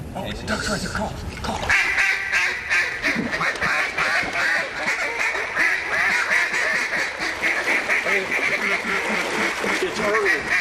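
Ducks quacking steadily during a duck hunt, a dense continuous chatter of many birds close by, with people talking over it at the start.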